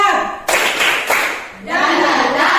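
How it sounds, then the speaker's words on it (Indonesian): A group performs a rhythmic spirit clap (tepuk semangat), with dense bursts of hands clapping together in quick patterned sets, close and loud, broken by a short pause and mixed with voices. "Mari kita tepuk semangat dulu. Tepuk semangat."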